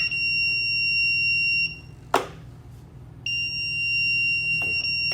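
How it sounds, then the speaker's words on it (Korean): A steady electronic buzzer on a parking lot model sounds as a car is placed on a reserved space, a couple of seconds, stops briefly around a sharp click, then starts again, close and continuous. "이쪽 칸에 올라오는 차들은 다 부저가 울립니다"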